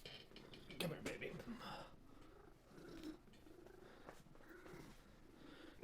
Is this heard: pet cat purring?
yes